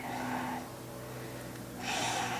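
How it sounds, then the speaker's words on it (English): Slow, deep nasal breathing during a calm yoga flow for hips and lower back, a soft airy inhale and exhale through the nose heard close and steady, rising again toward the end. "Inhaling, exhaling through the nose. And then listen to the sound of your breath."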